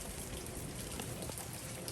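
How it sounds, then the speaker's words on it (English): Steady rainfall over a garden on a rainy day, a dense, even patter of drops with continuous wash and no talking, moderately close throughout. "You hear all of that, a beautiful abundance of rain dropping"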